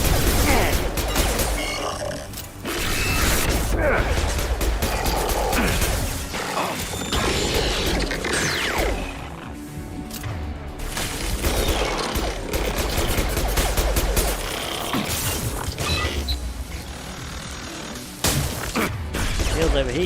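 Sustained video game combat in Mass Effect 2, with repeated pistol shots and impacts firing in rapid bursts over a dense, loud mix of effects and music, broken by brief lulls.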